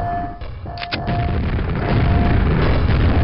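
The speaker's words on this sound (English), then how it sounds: "Grenade versus grenade." A grenade explosion in the virtual reality shooter Quake VR, a loud booming blast with a short crackling burst near the start that rolls into a sustained, dense rumble of explosive noise.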